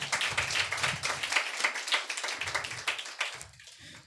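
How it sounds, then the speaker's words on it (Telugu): A church congregation clapping together in a steady rhythmic beat, loud and close, with a few brief pauses near the end. "చప్పట్లు కొడతాము గాక"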